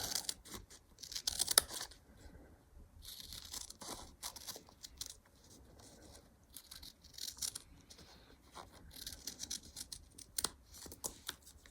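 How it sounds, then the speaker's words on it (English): Scissors cutting fabric along pattern lines for a thistle collage quilt wall hanging make quiet crisp snips and shearing crunches in irregular bursts, close and fairly faint, with no one talking. "I'm going to follow the lines, which I think is probably pretty hard for you to see on camera, but I can see, and cut it out this way"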